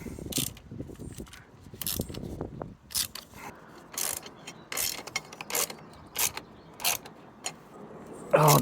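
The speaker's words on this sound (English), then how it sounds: "So now we have to unscrew." Tool working TX30 multi-spline screws loose on a Triumph Street Triple radiator: close, repeated ratcheting clicks and short metallic creaks in an irregular rhythm, with low handling noises early on.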